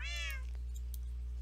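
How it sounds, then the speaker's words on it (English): A cat meows once in Minecraft, a clear falling cry at the start that fades quickly over a steady low electronic hum. "They all meow at the same time."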